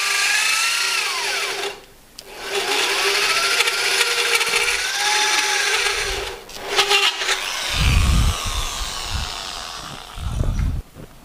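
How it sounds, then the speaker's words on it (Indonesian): A power drill bores holes through aluminium for riveting while building a gamma match dipole antenna, loud whining bursts close by, stopping and restarting with clunks and handling knocks between runs. "kita bor untuk di ripet"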